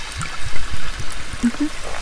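Warm water poured into a cauldron-style container during a close, binaural medical exam scene, a soft irregular trickling and splashing over about two seconds with low bumps, no talking.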